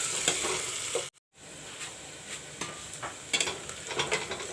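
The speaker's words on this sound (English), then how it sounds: "fry the onions till golden brown" Onions frying with whole spices and bay leaves for a spicy mutton and potato curry, a loud steady sizzle with stirring scrapes and clinks, briefly dropping out for a moment before resuming.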